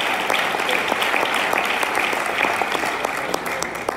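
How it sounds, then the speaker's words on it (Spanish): Church congregation applauding during a morning service, a dense steady wash of many hands clapping at once, sustained and fairly loud throughout with no talk over it. "Den ese aplauso a Dios esta mañana."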